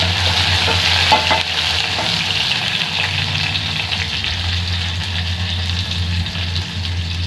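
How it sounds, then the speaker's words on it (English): Garlic sizzles in a frying pan with fried onions while being stirred. The frying hiss is loud and continuous, with occasional scraping from the stirring, and no one talks. "So our onions is ready. I'm going to add in my garlic."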